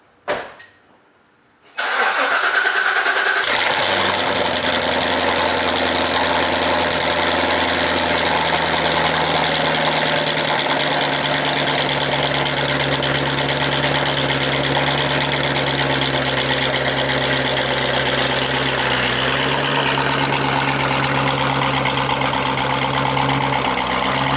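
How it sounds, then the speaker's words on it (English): A Corvette C7 Z06 V8 fitted with catless longtube headers cold-starts after a brief quiet moment: the starter catches, the engine flares loudly, then settles into a steady, loud, raspy high idle that runs for over twenty seconds, with no talking. "It's gonna be the last cold start with the catless setup"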